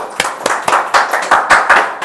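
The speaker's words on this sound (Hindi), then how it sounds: "तो हम ताली बजाएं परमेश्वर के लिए" Worshippers at a Sunday church service clap loudly in praise to God, a quick even rhythm of about eight sharp claps in two seconds, close and clear.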